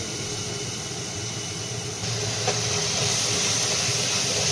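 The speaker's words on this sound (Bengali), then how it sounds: "এই যে এখানে আছে আদা আর একটু জিরে, ঢেকে দিলাম, নাহলে প্রচুর ছেটায়।" Ginger and cumin spattering in hot oil inside a covered pot, a steady loud hiss with crackle that swells slightly partway through, with a single sharp pop near the middle and no talk.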